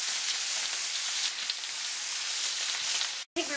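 Steaks sizzle steadily as they fry in a pan, a dense, close hiss with fine crackle and spatter running continuously, with a brief break near the end and no talking.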